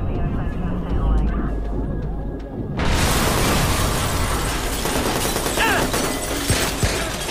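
A car explodes in the video game Watch Dogs: a sudden loud blast midway through, followed by a dense roaring burst of fire and debris, with engine and gunfire noise around it.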